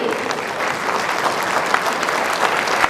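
Audience applause at a political candidates' debate on transportation, a steady, fairly loud crowd clapping with no talking, running evenly throughout.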